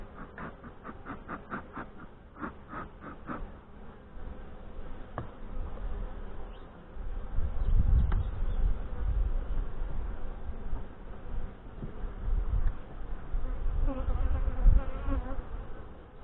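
Honey bees drone steadily during a hive inspection of Saskatraz queens, a loud close buzz that swells midway with some tapping and knocking of frames early on, no talk.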